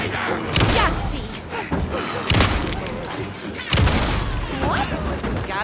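Gunfire in Alan Wake 2: several loud, widely spaced heavy shots with booming thuds, set against a busy background of combat noise and voices.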